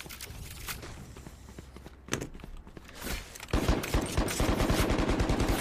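Rapid bursts of Valorant gunfire in a championship match, first scattered shots, then a loud sustained volley of automatic fire with sharp repeated cracks.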